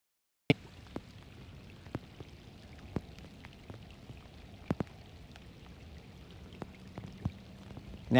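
Rain patters steadily on a lakeside setting during a fishing outing on Lake Guntersville, with scattered sharper drops tapping nearby over a constant soft wash.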